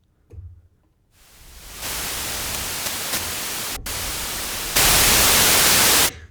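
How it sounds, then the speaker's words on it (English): Roland Juno-6 synthesizer noise generator producing a steady hiss of static that starts after a brief thump, holds evenly, then jumps louder in a final burst before cutting off. "Let's listen to the noise."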